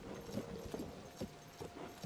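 A horse's hooves clip-clop in a video game, a steady, even rhythm of moderately loud hoofbeats over a soft ambient background, with no talking.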